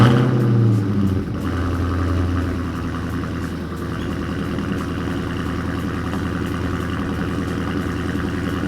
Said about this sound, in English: So stay tuned for the cold start.